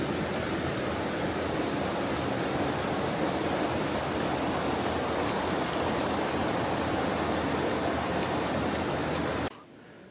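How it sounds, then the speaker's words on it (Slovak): The Salzach river babbles beside a campsite in the Austrian Alps, a steady close rushing flow that cuts off abruptly near the end. "Celú noc budem počúvať Salzu."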